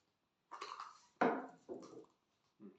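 A few light clinks and knocks of camping dishes and a kettle lid being picked up and set down, four short separate handling sounds, close and quiet.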